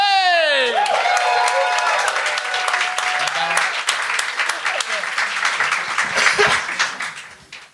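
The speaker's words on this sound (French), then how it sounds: "Gardez vos applaudissements pour la prochaine, Annie Gervais!" A comedy-show audience breaks into dense applause with cheering and scattered laughter, loud and steady for several seconds before tapering off; a voice speaks briefly over the start.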